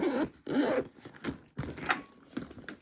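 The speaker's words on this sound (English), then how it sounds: "let's close the zipper" A zipper being drawn closed on a handmade cut-and-sew bag, a few quick rasping pulls in short bursts close to the listener, with brief pauses between strokes.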